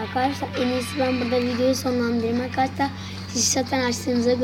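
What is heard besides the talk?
No distinct noise like a dog, phone or traffic.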